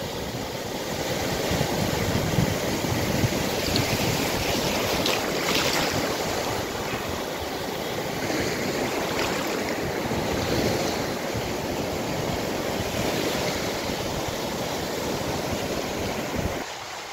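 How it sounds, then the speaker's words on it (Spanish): Ocean surf washes in continuously, broad hissing breakers rolling one after another, mixed with wind buffeting the microphone; no one speaks. "Las olas se empujan con ganas."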